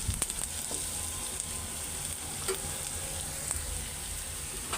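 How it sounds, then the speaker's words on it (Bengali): Bitter gourd frying in a pan with shrimp for a home-cooked dish: a constant hissing sizzle close up, broken by a few light clicks of a spatula, no talk. "করলা ভাজিটাও বসাই দিলাম"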